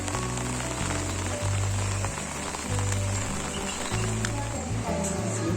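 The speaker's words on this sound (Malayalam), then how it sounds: "ഇപ്പോൾ നല്ല മഴയുണ്ട്" Heavy rain keeps falling steadily on a surface, a continuous dense hiss under a layered, musical hum, with light talk nearby at times.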